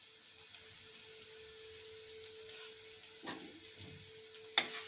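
Chopped garlic and green chillies sizzle in a pan for a paneer dish, a soft steady frying hiss with a few spoon scrapes and clinks, quiet and close.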